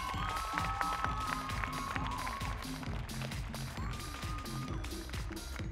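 An audience at a bikini fitness competition in the +168cm class at the 2016 IFBB Icelandic championships applauds steadily, a dense wash of clapping and some cheering over tonal music, with a voice briefly audible.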